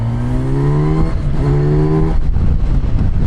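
A Kawasaki Versys 1100 motorcycle in road mode revs up loudly as the throttle is opened, its engine note climbing in two rising sweeps before dropping away into rough mechanical noise and wind.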